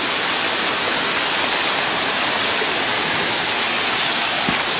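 A creek flows with a loud, steady rushing of water that fills the whole stretch without a break.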